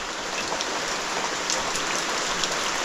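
Steady rain pattering on a surface, a dense even hiss with scattered louder drops, close and continuous, no voices.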